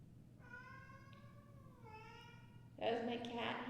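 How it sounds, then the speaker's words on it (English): A cat gives two drawn-out meows in quick succession indoors, fairly close and clear, followed by a louder burst of sound. "That was my cat."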